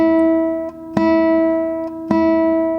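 A classical guitar string is plucked with the right-hand fingernail, close and clear. Two soft plucks alternate with two sharp, bright attacks, and each note rings on with strong sustained overtones.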